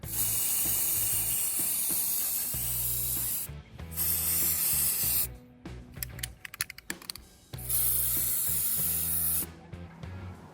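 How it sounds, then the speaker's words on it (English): A spray can hisses steadily while painting a model muscle car red on a spray mat, long continuous bursts broken by short pauses and clicky handling noises, close and fairly loud with no talking. "now the spray painting's done on the car"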